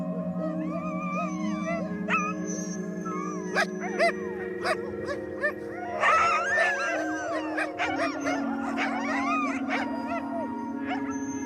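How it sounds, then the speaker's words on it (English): Greenland sled dogs, an old robust breed kept on leashes in Tasiilaq, howl and bark in a chorus of overlapping wails with sharper yelps, close and steady for several seconds. "The Greenland dog is one of the oldest dog breeds in the world"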